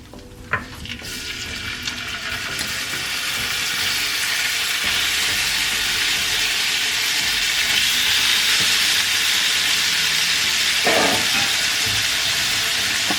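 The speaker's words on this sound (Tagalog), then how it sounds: "If you cook your beef in little portions, parang hindi nagtutubig yung karne." Small portions of beef salpicao fry in a hot pan, giving a loud, steady sizzle that builds over the first few seconds and holds constant, with occasional stirring clatter and no speech.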